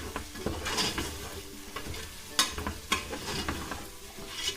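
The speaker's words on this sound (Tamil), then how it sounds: "இப்போ நான் வெங்காயத்தை சேர்த்துக்கிறேன்." Two large onions stirred and frying in oil in a pressure cooker for mutton biryani, a close steady sizzle broken by repeated scraping and stirring knocks against the pot, with no talk.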